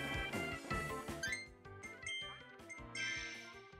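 Chiming bells in the video game Kirby and the Forgotten Land, bright tinkling dings clustered in quick bursts over busy game music, fairly faint overall.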